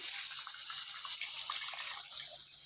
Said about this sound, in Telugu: ముక్కల్లో చేపల పులుసు అనేది మనం పోసేసుకోవాలి.